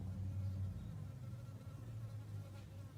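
Low, steady buzzing of bees hums throughout, one close drone swelling near the start, with no voices.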